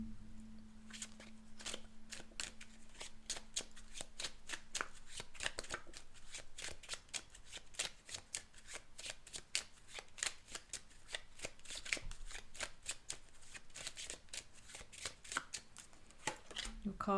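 Tarot cards shuffled for a reading, a long run of quick, crisp riffling and flicking strokes, close and steady with soft bumps, heard alone without talk.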